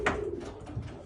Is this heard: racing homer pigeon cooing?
yes